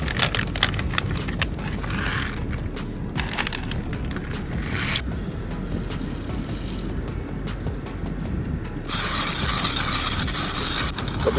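Coffee beans being crushed in a 1Zpresso XPro hand grinder with small burrs, making a continuous gritty crunching and grinding that stays close and steady throughout, with slight rhythmic shifts from the turning crank and no talk.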